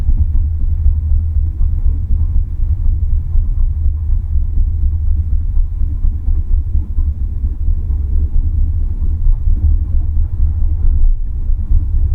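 A Tesla driving on a freeway, heard from inside as a steady low road rumble and tire hum that holds evenly throughout with no voices.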